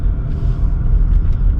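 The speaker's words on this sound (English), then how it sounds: "I hear that engine come on quick" A Lexus RX450h hybrid's engine comes on and hums steadily at close range, a smooth low rumble with no talking over it.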